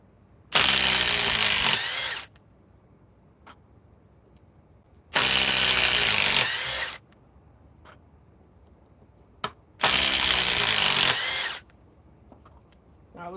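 Milwaukee Gen 4 cordless power tool fitted with a Forge battery, fired in three loud, close bursts of about one and a half seconds each, separated by quiet gaps with faint clicks.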